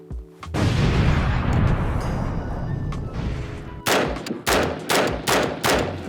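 A Zenith ZF-56 gun fires, first a long sustained burst, then a run of six sharp, loud shots spaced about half a second apart, close and unvoiced.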